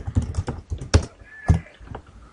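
Computer keyboard keys tapped while writing C# code, a handful of close, sharp clicks at an irregular pace with a slightly harder stroke near the middle, alone without voices.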